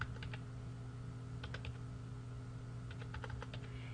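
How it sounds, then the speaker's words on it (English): Quick bursts of keystrokes on a computer keypad as a date is entered, three short clusters of light clicks separated by pauses, close and quiet over a faint steady hum. "as I type in the hire date, all I have to do is use my keypad and type in the date."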